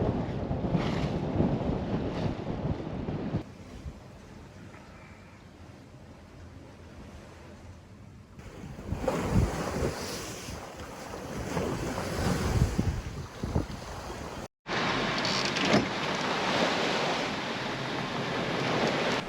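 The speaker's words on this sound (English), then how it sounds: "There's the ocean." Ocean waves and wind at sea aboard a sailboat running downwind off Banks Peninsula, New Zealand; a steady, loud wash of surf and rushing wind buffeting the microphone, with a brief dropout near the end.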